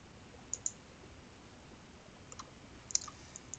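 A computer mouse clicks a few times, faint and sparse, with a double click early, a small cluster later and one sharper click near the end over quiet room noise.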